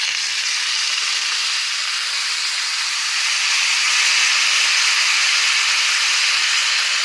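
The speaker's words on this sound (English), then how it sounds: "I can start hearing them sizzling, so I'm going to add water now." Loud, steady hissing sizzle of pot stickers frying in a pan as water is added, building slightly as steam rises, continuous and close with no voices.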